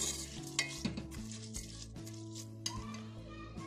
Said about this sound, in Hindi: दाल और चावलों को डालकर अच्छी तरह मिक्स कर ले